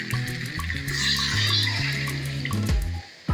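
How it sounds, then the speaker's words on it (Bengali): Broth is poured into a pot of chicken curry with potatoes, a steady gushing liquid stream lasting a few seconds before stopping with a final splash. "এখন আমি ঝোল দিয়ে দেবো"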